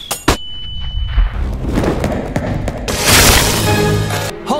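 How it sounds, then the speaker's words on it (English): A flashbang grenade thrown in an animated show, with a sharp thump early on, then a bright, loud burst of noise and ringing in the second half, amid busy action sounds. "Throwing flashbang!"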